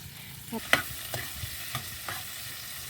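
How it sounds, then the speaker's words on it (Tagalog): Soft frying sizzle in a pan, a faint steady hiss with a few sharp clinks and stirring taps spaced across it. "prito sa tabi ko, Che. Prito tayo, guys."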